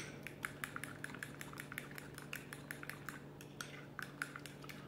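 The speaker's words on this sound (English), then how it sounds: "we're just gonna mix in the Greek yogurt, the mayonnaise, and the minced garlic" Greek yogurt, mayonnaise and minced garlic stirred together for a garlic sauce, a quick regular series of utensil clicks and scrapes against a bowl, close and steady over a faint background hum, with no speech.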